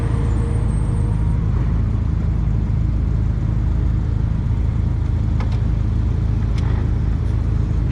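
A car engine idles in a traffic queue, a steady low rumble that holds throughout, with the faint whoosh of other traffic around it and a few brief higher clinks.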